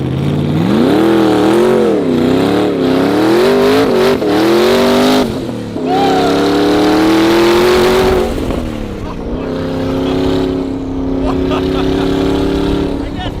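A Ford Mustang engine at a car show revs loudly and up close, its pitch rising and falling through repeated throttle blips over a continuous rumble, with people talking in the background.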